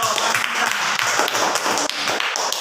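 A class of students applauds the Pancasila group during a teaching-practice lesson, a burst of clapping from a room of people with some voices mixed in, fairly close and steady.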